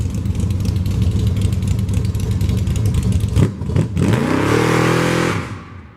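A Mopar drag truck with a 408 engine rumbles loudly at close range, then blips and revs up, the pitch climbing and holding before the engine settles and fades.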